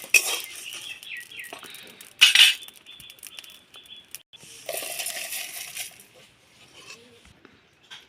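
Fried coriander seeds, cumin and dried chillies are ground to powder, giving several bursts of gritty crushing and clinking close by, loudest in two stretches with quieter scraping between.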